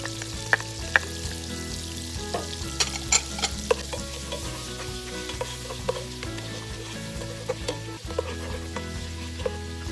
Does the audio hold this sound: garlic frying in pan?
yes